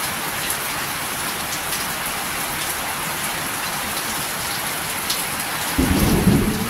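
Heavy rain pours down in a dense, steady roar, and a low rumble of thunder rolls in near the end.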